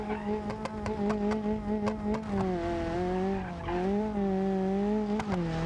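A truck engine in BeamNG.drive bangs off its rev limiter, a loud buzzing high-rev drone that wavers and stutters repeatedly with sharp cut-out clicks, close and continuous.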